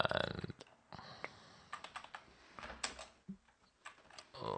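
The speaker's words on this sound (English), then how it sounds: "I'm typing something wrong here." Computer keyboard typing while editing a proxy server config file: quiet, uneven bursts of key clicks with short pauses, close up and faint, with no talking.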